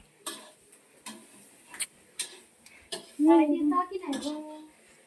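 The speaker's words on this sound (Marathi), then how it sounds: "तर आता मी भांडी धुते" Pots and dishes being washed by hand, with sharp knocks and clinks of metal vessels set down one after another, followed by a burst of scraping and rattling, while someone talks nearby.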